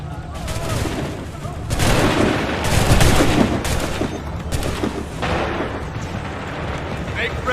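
Musket volleys in Assassin's Creed III, several loud crackling bursts of massed gunfire rolling one after another over a noisy battlefield, with shouted commands mixed in.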